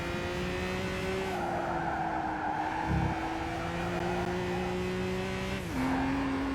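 Race car engine drones steadily with shifting pitch and tire squeal in the Gran Turismo 5 video game, a continuous loud tone dipping briefly near the end as the car slows and re-accelerates, with no talking.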